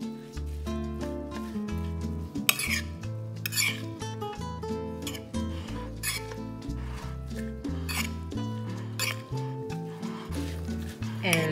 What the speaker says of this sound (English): Let's stir the salsa.